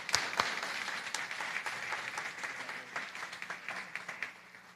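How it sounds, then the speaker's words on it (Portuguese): Audience at a couples' gathering applauds a couple, a burst of scattered hand claps that starts sharp and settles into a soft, fairly distant patter. "Palmas para esse casal maravilhoso."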